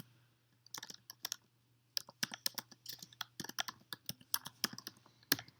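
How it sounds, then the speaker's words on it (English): Typing on a computer keyboard, with bursts of quick key clicks separated by short pauses, close and fairly quiet over a steady low hum. "So I'm going to type poets,"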